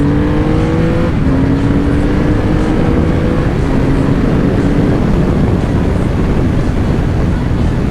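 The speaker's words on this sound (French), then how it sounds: "l'accélération de cette moto, c'est vraiment un truc de dingue" A very powerful motorcycle on a Distinguished Gentleman's Ride accelerates hard, heard from close behind as a loud, continuous engine roar with tones rising through the gears before settling into a heavy rumble.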